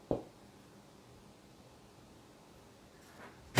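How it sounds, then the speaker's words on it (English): Someone taps the tempered-glass side panel of a PC case for a 2020 budget Ryzen 5 3600 build: one sharp knock at the start, a faint one near the end and a louder final tap, with quiet room hiss between. "You can hear it's a real glass."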